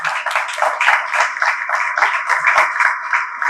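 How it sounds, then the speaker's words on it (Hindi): Audience applause at a business conference in Lahore, a fairly close crowd clapping in a lively uneven rhythm with individual hand claps standing out, sustained throughout. "जोरदार तालियों में पुरजोश तरीके से इनका इस्तकबाल करें"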